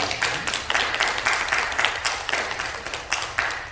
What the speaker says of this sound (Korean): 축복 박수 한번 해드립시다.